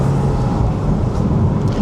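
A Porsche Spyder RS engine drones loud and steady, a dense low rumble that holds at a constant level without letting up.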